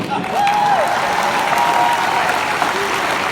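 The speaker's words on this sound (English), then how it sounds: "big round of applause" A convention crowd at MegaCon Orlando applauds after a comedy sketch on stage, a loud, dense, sustained roar of clapping from a large audience, with a few whistles and cheers rising above the wash.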